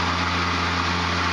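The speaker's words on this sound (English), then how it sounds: "just running that lawnmower like a fan, this thing's been going" A battery-powered Ego lawn mower runs continuously with a steady whirring motor hum and broad airy rush of the spinning blade, holding at an even level throughout.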